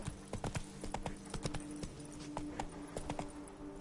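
Roach, Geralt's horse in the video game The Witcher 3: Blood and Wine, gallops with a quick, steady clip-clop of hooves, close and continuous for a few seconds, with no voices.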